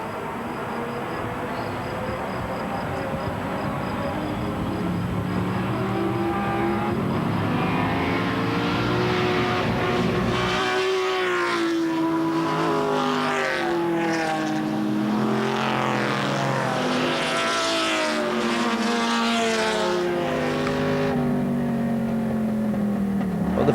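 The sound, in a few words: classic race cars on circuit, onboard, Ford GT40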